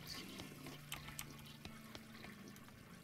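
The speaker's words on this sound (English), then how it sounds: "flush a bunch of toilets" A toilet flushing in the video game West of Loathing, a steady rush of pouring water that runs through the whole stretch with a few faint clicks over a low hum.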